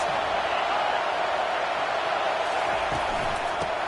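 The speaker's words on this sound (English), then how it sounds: "Listen to this crowd just shaking the girders of this place, trying to help their defense." A stadium crowd roars in an NCAA college football video game, a dense, constant wall of cheering and noise that stays loud and unbroken throughout.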